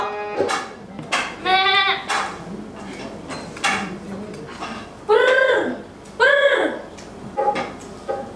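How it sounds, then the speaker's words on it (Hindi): A goat bleats several times in a stage play, with wavering, harmonic cries spread across the span, some loud and close, mixed with actors' voices and light background noise. "तू उसे मामूली बकरी समझती है? ये गांधी जी की बकरी है।"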